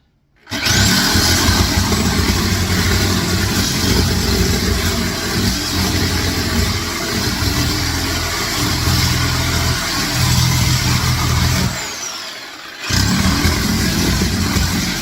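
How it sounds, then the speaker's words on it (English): A Sawzall reciprocating saw fitted with a new blade tears through floor tile during demolition, a loud, steady buzzing grind running almost continuously near the mic, with a brief drop around the twelfth second before resuming. "So this is the Sawzall. This is a new blade."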